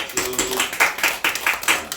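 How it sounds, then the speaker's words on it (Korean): A church congregation claps during a guest worship service, a steady, rhythmic run of hand claps at a fairly loud level, with a brief tonal voice sound near the start. "우리 하나님께 영광의 박수 한번 보내시기 바랍니다"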